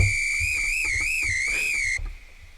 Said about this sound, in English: Okay, coach whistle.